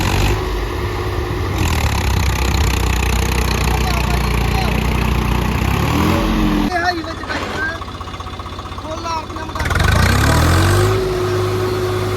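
A turbocharged 70 hp Swaraj 855 tractor engine chugs steadily in first gear, then stalls briefly before revving back up, with someone talking over the running motor.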